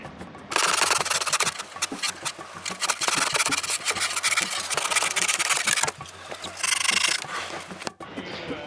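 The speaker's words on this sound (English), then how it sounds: "now we'll grind it into place with some sandpaper" Sandpaper rubs steadily against a cardboard mold fitted into a hole in a fiberglass sailboat hull. The rasping strokes run continuously and fairly loud for most of the stretch, with a brief pause partway through and no talk.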